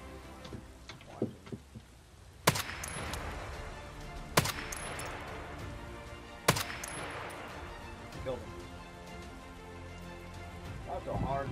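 Three sharp gunshots in the shooter game Escape from Tarkov ring out about two seconds apart, each followed by a short reverberating tail, over a quiet background with faint clicks.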